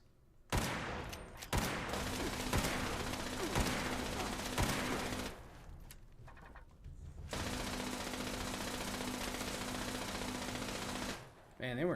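Laser turrets fire in Fallout 76, rapid rattling bursts of shots in long sustained volleys with a brief pause midway, loud and continuous.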